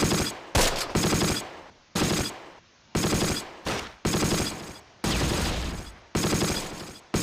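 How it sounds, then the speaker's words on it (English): Repeated bursts of machine gun fire in the WWII strategy game Close Combat: Last Stand Arnhem, loud and close, coming in several long volleys with short gaps between them. "We are taking fire from that building"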